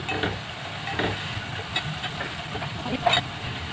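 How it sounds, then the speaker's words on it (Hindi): Food fries in hot oil in a home kitchen, a soft continuous sizzle and hiss with occasional faint stirring clicks, close by and without any talking. "अब इसको फ्राई करके मैं आपको दिखाती हूँ, फ्राई करते हैं।"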